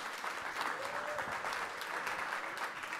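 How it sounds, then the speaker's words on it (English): A crowd applauds a panel at the close of a GROW NY 2023 conference session, steady sustained clapping filling the room evenly from start to finish, with faint voices mixed in. "If you can, give a round of applause for an amazing panel."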